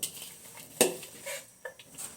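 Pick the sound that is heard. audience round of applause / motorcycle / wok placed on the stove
wok placed on the stove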